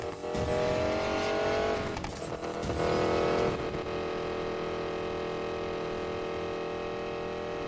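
Car drifting in the racing video game Need for Speed Payback, with a loud, steady engine roar and stretches of tire squeal as the car slides, continuous throughout with no talk.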